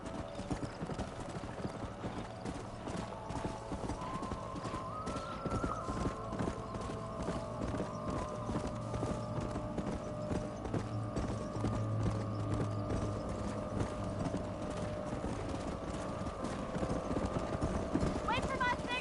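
Horse hooves clip-clop in a steady, continuous rhythm on a trail in the Red Dead Redemption video game, under a sustained musical score with voices talking at times.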